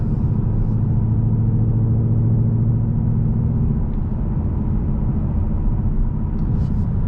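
A modified 2018 Ford Mustang GT V8 idles with its exhaust valves opened, a steady, loud, deep rumble heard close up throughout.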